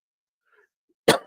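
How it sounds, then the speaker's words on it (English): A single harsh cough from someone under the weather during a relaxed Sunday cigar chat bursts out loud and close after near silence, trailing off quickly. "I apologize for all the coughing"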